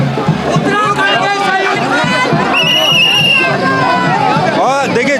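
A large, dense crowd at a rally march, with many voices chattering and calling out at once in a continuous loud hubbub, close around the listener and with no pause.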